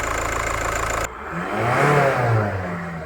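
A weak-conditioned second-hand car engine, leaking oil and smoking heavily, idles roughly before revving up loudly and close by, the engine note rising and falling over a few seconds.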